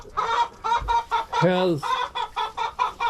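Rapid, rhythmic clucking from a hen close by, a steady series of short calls with one longer, higher squawk in the middle.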